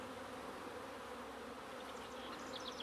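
Honeybees on orientation flights around a busy hive make a steady, faint, close buzz, with a few individual bees passing a little louder near the end.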